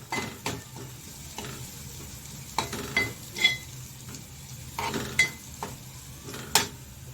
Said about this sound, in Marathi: आलं लसूणची पेस्ट आपण याच्यामध्ये व्यवस्थित परतवून घ्यायची आहे।